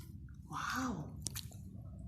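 A dog chews a sticky wad of chewing gum nearby, giving a brief squishy, smacking mastication with a wet click, fairly close and alone.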